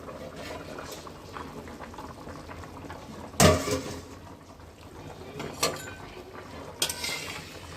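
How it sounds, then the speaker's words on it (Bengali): A metal lid lifted off a pot of half-cooked lentils and potatoes boiling on a home stove, with a sharp clatter, then two lighter clinks over a steady simmering bubble. "ঢাকনাটা একবার খুলে দেখি"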